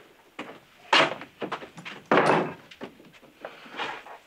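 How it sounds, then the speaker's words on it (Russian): Door of a Moscow tavern on Pyatnitskaya opening and closing, heard as a series of wooden knocks and thuds with two heavier bangs, fairly close, with no talk over it. "Дверь."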